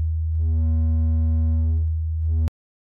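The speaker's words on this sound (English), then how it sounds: "The next step is transistor clipping distortion." A steady low test tone runs through transistor-style clipping distortion on an STM32-based guitar effect, giving a buzzing, harmonic-rich hum. It swells slightly and stops abruptly with a click, with no speech.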